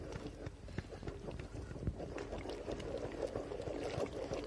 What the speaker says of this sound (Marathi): असं चांगलं पटापटा त्याला हलवून घ्यावं लागतं आणि चमचा बी घ्यावा लागतो